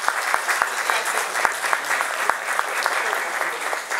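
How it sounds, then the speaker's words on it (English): Audience applause for an ambassador at a Yoruba Day 2014 event, steady dense clapping from a crowd with a few sharper individual claps, sustained throughout. "Please, a round of applause for"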